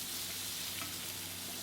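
Scallops dry-searing on a hot Kamado Joe grill surface, an even, dense sizzle held steady throughout at close range with no other sounds.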